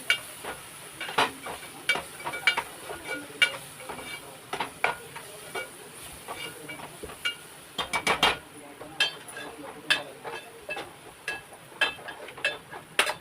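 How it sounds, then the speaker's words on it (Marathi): Red chili powder being sautéed into a masala in hot oil for a Maharashtrian dried-fish curry, a soft sizzle punctuated by repeated scraping and stirring clicks of a spoon against the pan, fairly close and steady. "लाल तिखट त्याला मध्ये परतून घ्यायचं लाल तिखट मसाल्याला"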